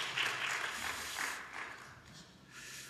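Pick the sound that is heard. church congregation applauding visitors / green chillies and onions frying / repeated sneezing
church congregation applauding visitors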